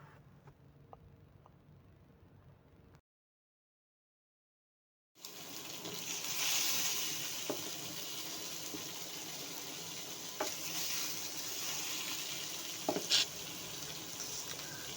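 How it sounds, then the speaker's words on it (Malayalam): Fish pieces frying in hot rendered beef fat, a steady close crackling sizzle that cuts out briefly and then returns louder and fuller, with occasional sharper pops and spatters. "ഇതിലോട്ട് ഇനി നമുക്ക് ഫിഷ് ഓരോന്നോരോന്നായിട്ട് ആഡ് ചെയ്ത് കൊടുക്കാം"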